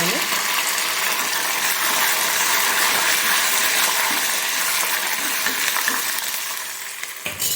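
Curry leaves sizzle crisply in hot oil for a tamarind chutney with red chillies, a loud, dense, continuous frying hiss that eases slightly toward the end.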